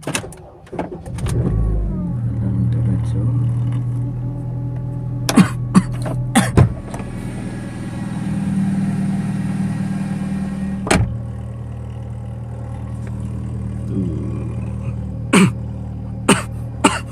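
Honda Civic FD engine cranking and starting, then settling into a steady low idle with a brief rise in revs, heard from inside the car along with clicks, thumps and a cough or two.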